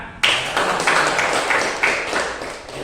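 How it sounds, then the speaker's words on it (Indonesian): Students in a classroom clap their hands together, loud rhythmic group clapping with periodic surging accents, starting abruptly and continuing throughout. "Ya, tepuk tangan."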